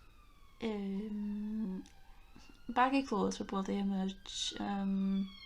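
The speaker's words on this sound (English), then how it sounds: "Sorry about the siren in the background." A wailing city siren rises and falls in the background while a person talks over it, the tone sweeping steadily through the clip.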